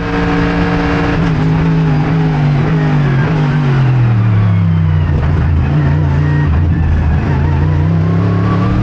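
A Mercedes-AMG GT3 race car engine roars loudly and continuously at high revs around Monza, pitch rising and falling through gear changes, close and unbroken throughout.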